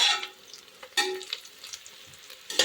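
Onion browning in a pan gives off a faint, close sizzle, broken by a few short clicks and scrapes from stirring.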